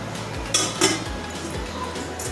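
Dal being stirred in a cooking pot, then the lid set on: a couple of sharp metallic clinks and clatters over a quiet kitchen background.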